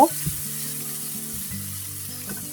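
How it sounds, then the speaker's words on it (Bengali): Spice paste sautéing with onions in a pan for Eid-style beef bhuna, a steady close sizzle with soft stirring scrapes and a few faint knocks throughout. "পেঁয়াজের সঙ্গে আমি এটি কষিয়ে নিব"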